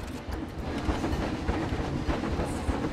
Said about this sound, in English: Oh, we got us a train coming in.